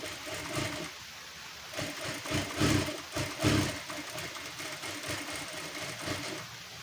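Sewing machine stitching the lining seam of a blouse, a continuous motor hum with rapid needle rattling that swells slightly in the middle, close and moderately loud with no speech.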